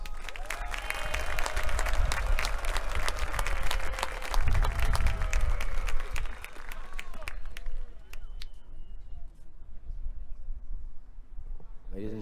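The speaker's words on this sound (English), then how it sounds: "Ladies and gentlemen, please give the cadets of Band Company one more round of applause." Audience applause for the cadets of Band Company at a military academy change of command parade outdoors, dense clapping and crowd noise that fades into a quieter tail while a public address voice carries over it.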